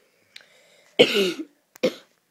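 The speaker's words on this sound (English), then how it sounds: "Got a bit of a cough there" A couple of sharp, close coughs after a faint brief sound, the first cough longer and raspier than the second.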